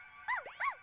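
A cartoon puppy in a dubbed animated show gives two short rising-and-falling whimpers, close and clear, with no talk over them.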